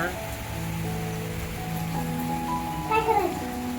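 Steady rain patters down on a surface, with faint voices and other sounds in the background.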